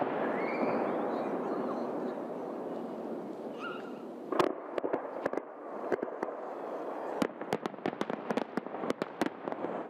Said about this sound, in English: a spectacular fireworks show.